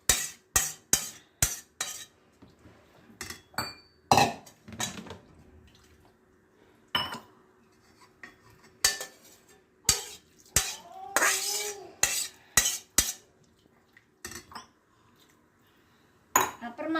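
Rice and vegetables for vegetable pulao get stirred in a rice cooker, a spoon scraping and clinking against the metal pot in irregular bursts between pauses, with a voice speaking in places.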